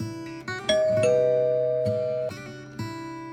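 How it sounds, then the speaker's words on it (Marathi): A doorbell in an audio drama rings out with a sustained electronic chime, its tones ringing steadily over a soft, continuous background bed, then a second strike near the end. No voices are heard. "ते जाता शिवाने बेल वाजवली"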